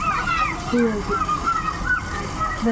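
Water gushes and sloshes steadily out of a pipe in a park, splashing close by with a bright, bubbling spray throughout.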